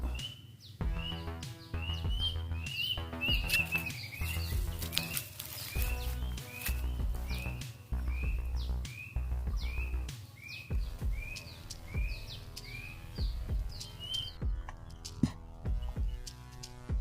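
Birds in a forest give repeated short chirps at a quiet, distant level, spaced in an irregular rhythm over soft background ambience with a few faint knocks.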